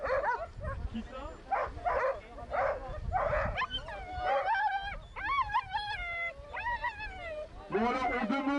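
Afghan hounds waiting at the start of a sighthound race let out repeated excited barks, yips and whines, loud and close, with a voice talking over the commotion.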